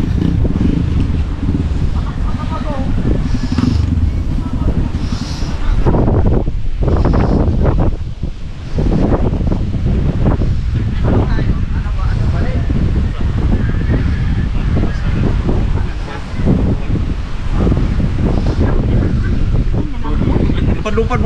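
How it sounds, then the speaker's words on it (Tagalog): Strong wind buffeting the microphone outdoors, a loud continuous roaring rumble with gusting surges throughout, mixed with indistinct background noise and occasional faint voices. "dahil naglalakas na ang hangin"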